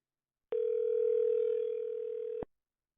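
A single steady ringback tone on an unanswered outgoing phone call, a clean unbroken electronic hum lasting about two seconds before cutting off, heard alone with no voices.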